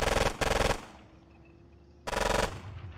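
MP40 submachine gun bursts in a video game battle: two close, loud rattling strings of rapid shots at the start, a quiet gap, then a third burst near the end.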